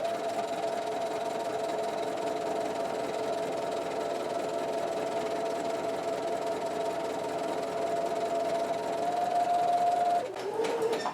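A sewing machine runs steadily, stitching a seam in spandex fabric for a bodysuit, with a constant fast whirring hum for about ten seconds before the motor stops and a few faint clicks follow.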